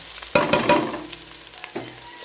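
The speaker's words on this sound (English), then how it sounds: "So I'll go ahead and add the pineapple now." Pineapple chunks hit a hot pan of red peppers for sweet and sour pork, setting off a sudden loud sizzle that fades. A second, smaller burst of frying follows with a light utensil scrape.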